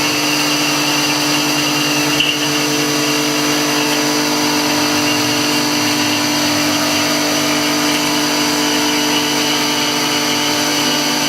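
A machine tool takes a finish cutting pass, a loud steady whine with constant tonal hum and motor drone holding unchanged throughout, with one small knock early on; no voices.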